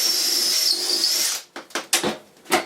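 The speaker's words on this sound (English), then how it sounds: "You basically take this and drill it twice." Power drill boring pocket holes in wood for a boat's helm console, a high steady whine for over a second that winds down, followed by several short clattering knocks.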